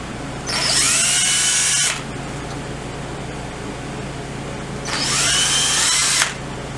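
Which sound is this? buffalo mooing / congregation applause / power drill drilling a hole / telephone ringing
power drill drilling a hole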